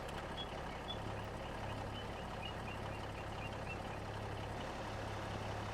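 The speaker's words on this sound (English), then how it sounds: "Oh, we gotta start the engine." Farm truck in Farming Simulator 25 idling steadily during a potato harvest, with an intermittent electronic reversing beep running on a low tone over the continuous engine drone, moderately loud throughout.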